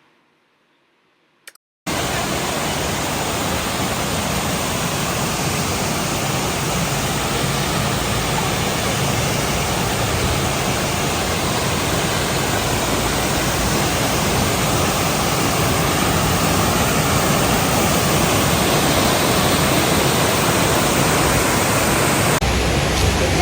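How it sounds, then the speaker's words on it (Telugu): A waterfall on the way to the Cameron Highlands in Malaysia roars as a loud, steady, broadband rush of falling water that starts abruptly after a brief quiet moment and continues unbroken. "కెమెరూన్ హైలాండ్స్ ఆన్ ద వేలో ఇక్కడ ఒక వాటర్ ఫాల్ ఉంది."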